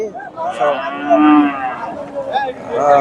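A cow lows loudly several times over about three seconds at a busy bull market in Chandaikona, Sirajganj, where one animal has collapsed from weakness; the calls are drawn-out and close, over a crowd murmur.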